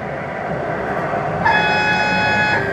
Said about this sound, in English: That's the sound of fuel pump itself working.